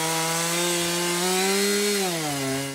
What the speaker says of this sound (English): The sound of chainsaws echo through this portion of Route 350 in Washington Township Wednesday